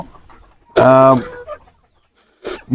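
A rooster, apparently ill with a cold, gives one loud, harsh call close by, followed by quieter clucking from nearby chickens; a voice speaks briefly in between.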